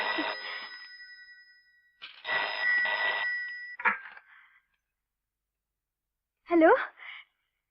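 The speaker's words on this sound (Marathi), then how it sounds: "कोणाचा फोन येणार आहे वाटतं उदयचा" A telephone bell rings in two long bursts, each followed by a pause, then a voice speaks briefly in a quiet room.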